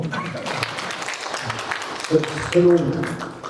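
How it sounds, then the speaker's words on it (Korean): An audience at an economic forum in Sejong applauds in a steady, dense wash of clapping that continues throughout, with a voice briefly rising over it near the end. "박수 주세요."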